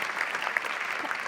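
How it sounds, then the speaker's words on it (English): Audience applause fills a hall at Pandox Hotel Market Day, a steady dense wash of clapping held at an even level throughout, with no voices over it. "Yes, you can clap if you like."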